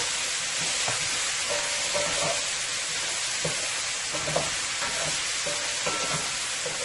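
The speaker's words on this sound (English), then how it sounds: "this is frying up so nicely here" Karela (bitter melon) frying in oil in a pan, a steady close sizzling hiss that runs throughout with faint stirring clicks and scrapes scattered over it.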